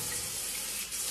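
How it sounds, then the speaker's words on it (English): Cold tap water runs steadily down a kitchen garbage disposal drain, a close, continuous broadband rush of splashing flow from start to finish with no talking. "just run some cold water down there."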